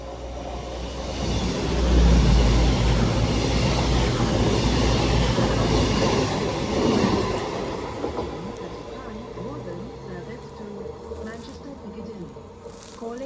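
A Voyager passenger train rumbles past close by at Cheadle Hulme, a loud low roar that builds quickly and then slowly fades as it moves away.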